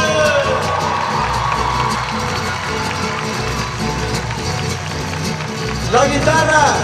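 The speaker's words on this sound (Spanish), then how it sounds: "Un fuerte aplauso, por favor, para Beto," A large concert crowd in Aguascalientes roars with cheers and applause for the drummer during a live show, a loud continuous wash of voices with music tones ringing through.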